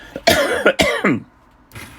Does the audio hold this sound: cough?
yes